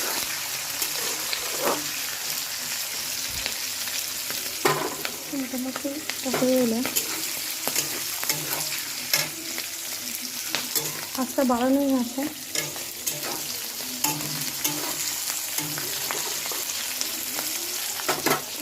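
Black gram dal, panch phoron, garlic and green chilies frying in a pan, a continuous crackling sizzle with scraping stirs, and someone speaks briefly over it.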